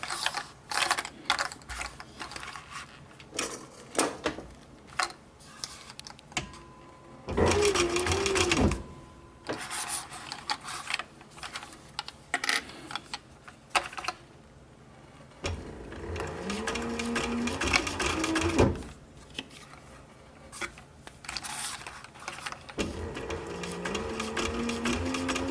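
A sewing machine stitches a military patrol cap, its rapid mechanical whirring rattle running in several close bursts separated by pauses and slower, quieter handling of the fabric.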